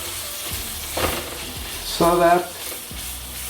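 Small cut pork pieces sizzle and fry in a discada pan at close range, with steady hissing and a louder burst of crackling near the end, while a voice speaks briefly.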